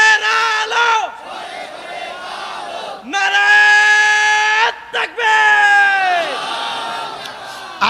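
A large crowd at a sermon shouts the takbir chant in loud unison, answering a leader's call in repeated long swelling roars with brief pauses between them.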